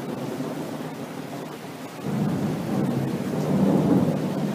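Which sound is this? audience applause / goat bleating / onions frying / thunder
thunder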